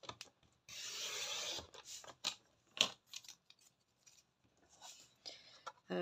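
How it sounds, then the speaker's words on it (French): Scissors cutting paper for a handmade mini album and happymail, with several close, crisp snipping and rasping strokes in uneven bursts separated by short pauses. "Déjà, je vais couper mon papier pour qu'il soit droit"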